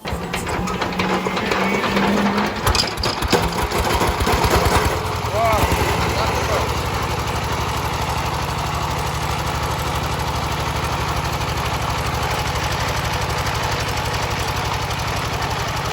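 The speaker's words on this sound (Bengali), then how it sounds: "ইঞ্জিনটাও আপনাদেরকে স্টার্ট করে আগে সাউন্ড কোয়ালিটিটা শোনাই" An old Saifeng 16 HP diesel engine runs steadily up close, a loud continuous chugging drone with irregular clatter and a voice over the first few seconds before it settles into an even rumble.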